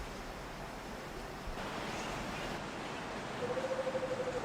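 A fiercely flowing river at Buffalo Springs in Samburu, Kenya, makes a continuous broad rushing roar. A faint bird call rises briefly near the end.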